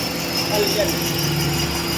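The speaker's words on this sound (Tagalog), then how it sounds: "Kita-kita yung palyado. Ang makina." Toyota Vios engine misfiring at idle after a new ignition coil was fitted, a steady close engine hum with faint irregular unevenness running throughout.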